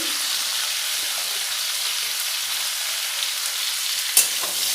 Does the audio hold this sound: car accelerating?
no